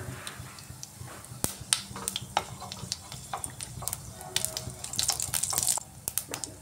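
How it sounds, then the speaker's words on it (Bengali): Cumin seeds sizzling in hot refined oil for a spinach dal tadka: a hissing fry spiked by frequent sharp pops and crackles, denser and louder toward the end, with no speech. "তেল গরম হয়ে গেছে, এবার দিচ্ছি জিরেটা ফোড়নে দিয়ে দিলাম।"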